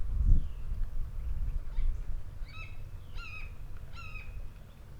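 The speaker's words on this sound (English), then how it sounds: "And this is the red-shouldered hawk." Red-shouldered hawk calling in a backyard, a few short harmonic cries in a loose series standing out over a steady low rumble of background noise.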